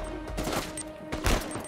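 Gunfire in the video game Uncharted 4, with a few loud, close shots breaking through dense game noise, the last burst heavy and booming.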